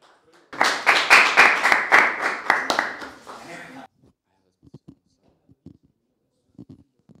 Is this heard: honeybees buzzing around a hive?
no